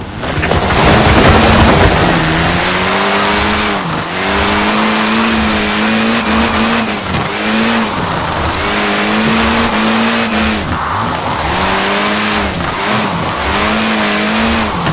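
A car power-slides through a drift in the racing game Forza Horizon, its loud engine whining up and down in repeated revving surges over continuous tire hiss and squeal.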